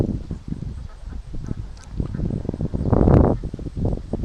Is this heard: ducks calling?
yes